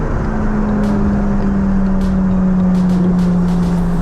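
A Nissan GT-R and a Bugatti sit ready to race, and their engines give a loud, steady, sustained drone with a faint rising edge. A few brief sharp sounds rise over it in the second half.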